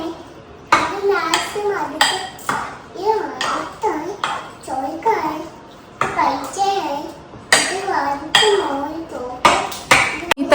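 Pots and pans clatter in a home kitchen while someone cooks nearby, giving scattered sharp clinks and knocks under near-constant child chatter.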